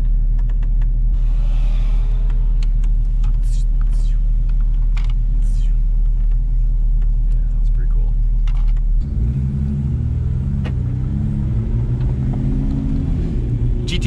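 Porsche 911 GT3 with PDK heard from inside the cabin, a deep low engine rumble that swells into a louder growling drone partway through, with people chatting over it.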